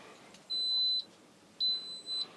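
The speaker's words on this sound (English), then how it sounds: "the Instant Pot has just clicked off its timer" An Instant Pot's timer beeps twice, each a clear high electronic tone lasting about half a second, sounding alone over faint background hiss.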